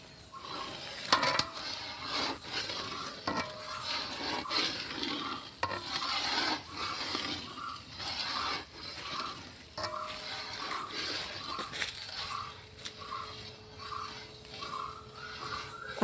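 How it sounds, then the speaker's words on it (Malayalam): A thick onion lehyam, cooked down with jaggery and coconut milk, is stirred in a pot that is not aluminium. Repeated scraping and stirring strokes fall in a steady rhythm over a low bubbling sizzle, close by, with no talk. "ഓരോരുത്തർ മാറി ഇളക്കിക്കൊണ്ടിരിക്കുന്നുണ്ട്"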